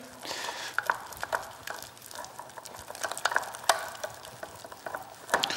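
A spatula stirs banana into caramel off the heat, making a cream. Soft sticky scraping and clicking strokes come in an irregular rhythm, close and moderately quiet.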